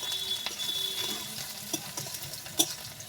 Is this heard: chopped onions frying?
yes